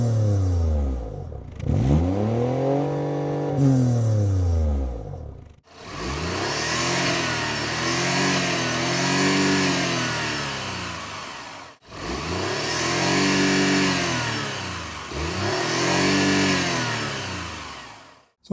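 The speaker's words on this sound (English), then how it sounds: "this is how the exhaust sounds like" BMW X2 xDrive25e plug-in hybrid's exhaust revved in three long rises and falls, the engine climbing and dropping in pitch each time, loud and close with no talk.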